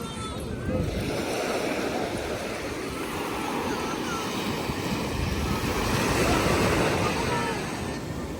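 Rough, muddy sea churning at high tide during monsoon rain on the Konkan coast near Redi, a loud continuous roar of breaking surf mixed with gusty wind buffeting the microphone.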